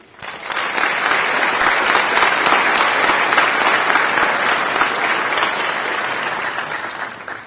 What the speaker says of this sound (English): how about a round of applause for you?